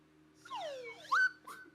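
A person whistles a short, quick phrase of a few rising and falling notes, close and fairly quiet, with a low steady hum underneath and no talking.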